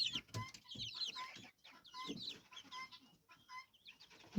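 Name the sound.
chickens clucking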